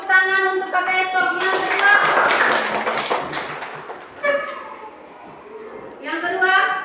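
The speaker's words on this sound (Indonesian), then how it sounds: "Oke, tepuk tangan untuk Kak Beto." Primary school classroom clapping for a visiting student teacher during a science lesson, a short burst of children's rhythmic clapping between stretches of voices, with talking and children's calls before and after.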